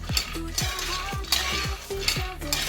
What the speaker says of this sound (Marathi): सतत हलवत याला छान असं भाजून घ्यायचं याला छान कडकपणा येतोपर्यंत मंद गॅसवरती आपण हा शेंगदाणा भाजून घेणार आहोत